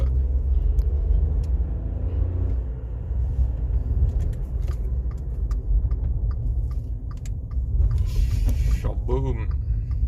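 Car driving around a corner in second gear: a steady low engine rumble and road noise throughout, with scattered clicks and a brief voice near the end.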